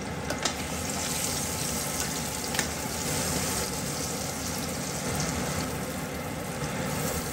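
Eggs frying in a pan with turmeric, salt and chili powder give off a steady, close sizzle that runs unbroken throughout, with a few faint scraping ticks from stirring.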